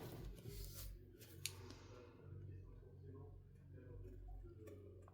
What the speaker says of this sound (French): Et là, je reviens découper